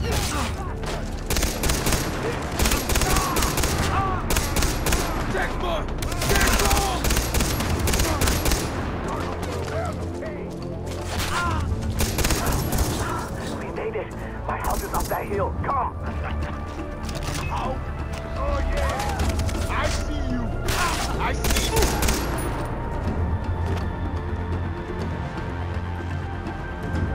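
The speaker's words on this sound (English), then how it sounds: "Help! I'm getting shot at!" Gunfire on very hard difficulty in the video game Far Cry 3: dense, continuous volleys of shots and machine-gun bursts, loud and nearby, with voices shouting over the fighting.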